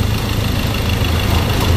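A car or truck engine idling close by, a loud, steady low rumble that holds an even, unbroken tone throughout with no voices.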